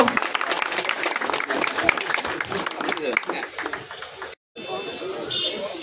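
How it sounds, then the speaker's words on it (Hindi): A crowd at a public gathering bursts into dense, sustained applause to welcome a guest being honoured with a garland. The clapping is loud and continuous, with voices mixed in and a brief cut near the end. "जोरदार तालियों से स्वागत हो।"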